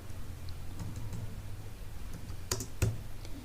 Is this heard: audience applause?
no